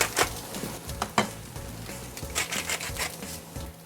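Shrimp frying in a hot pan with egg fried rice, a steady close sizzle with scraping and stirring clatters and a few sharper knocks of utensil against pan.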